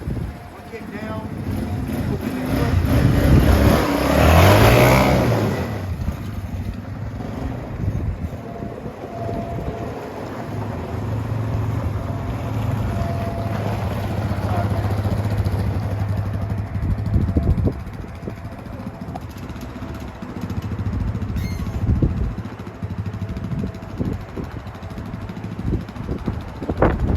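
Four-wheeler ATV engine running and revving during a ride, a steady low engine drone with wind noise, a louder surge early on and shifting pitch throughout, with a voice speaking at times over it.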